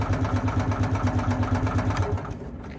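An old 1977 Winnebago motorhome engine, long cranked after sitting abandoned, runs with a steady, rough, rhythmic chug close by, easing off slightly near the end.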